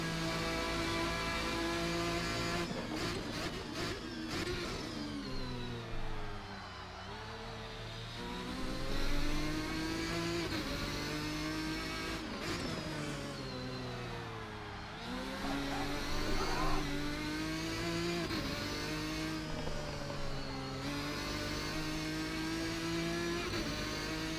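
A Ferrari GT1 race car in a sim racing game at Road America revs hard throughout, its engine note rising and falling through repeated upshifts and downshifts, loud and continuous with no talking.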